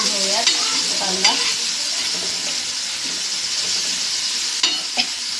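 Chopped onion sautés in a hot pan with a steady, close sizzle while a spatula stirs it, adding a few light scrapes and clinks.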